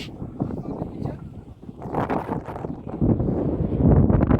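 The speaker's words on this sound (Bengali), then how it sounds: "এত ঠান্ডা বাতাস।" Cold wind sweeps across open desert sand dunes near Dubai at sunset, buffeting the microphone in gusty, rumbling bursts that swell and ease, growing strongest toward the end.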